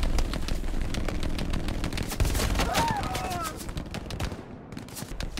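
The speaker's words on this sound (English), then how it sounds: "Well, that machine gun has moved up." Machine-gun fire in the video game Hell Let Loose rattles almost nonstop in heavy bursts amid a thick battlefield din. Voices can be heard at times under the continuous shooting.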